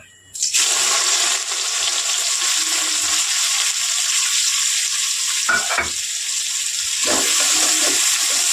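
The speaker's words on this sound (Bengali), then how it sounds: "পেঁয়াজটা একটু ভালো করে ভেজে নিতে হবে।" Onion sizzles and fries steadily in hot oil spiced with cinnamon for a boal fish curry, a loud continuous hiss with a few brief stirring scrapes partway through.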